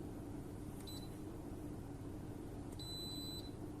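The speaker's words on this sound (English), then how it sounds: "and some beeps." Two short, high electronic beeps, recorded for a sound effect, sound about two seconds apart over a steady low hum. The second beep is longer and has a slight warble.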